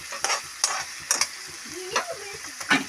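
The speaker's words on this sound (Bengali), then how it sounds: "তো এখানে কুচি করা পেঁয়াজ, তো এটা ঢালে দিলাম আমি। তো এটাকে এখন আমরা অল্প লাল হতে দেব" Chopped onion frying in a pan gives a quiet, ongoing sizzle, broken by several brisk scraping stirs of a spatula across the pan, fairly close.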